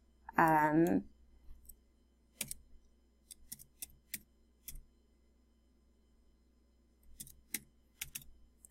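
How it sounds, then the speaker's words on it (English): A short spoken phrase opens the clip, then sparse, quiet key presses on a computer keyboard follow in small irregular clusters over a faint steady hum. "Okay, so I'm just going to type some text."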